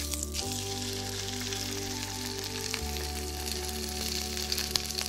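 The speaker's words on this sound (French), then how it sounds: "Je vais prendre le poisson et le mettre dans la poêle." Fish sizzling in melted butter in a hot pan, a steady crackling fry that runs throughout alongside a constant low kitchen hum.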